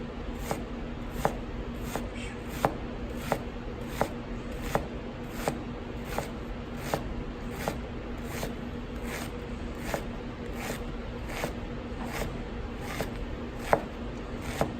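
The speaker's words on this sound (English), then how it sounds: "now I'm going to go forward, and the onion's going to be cut" A knife chops through onion in a steady, even rhythm, crisp repeated cuts against a board, close and fairly quiet, with no talking.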